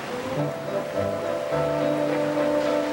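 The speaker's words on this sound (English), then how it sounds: "Oh, it's starting to rain." Steady broadband hiss of rain falling, with a low continuous tonal hum running underneath throughout.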